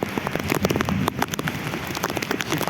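Heavy rain pours down outdoors near a railway, a dense steady patter of drops with scattered sharper splashes, close and continuous across the whole stretch with no talk.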